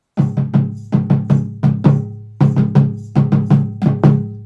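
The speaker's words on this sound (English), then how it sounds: "So if we play the dunduns on the break," Deep dundun bass drums, played on the break after the call in the Warabadon rhythm, thump in a steady syncopated pattern with a metallic bell on top, loud and close with no talking.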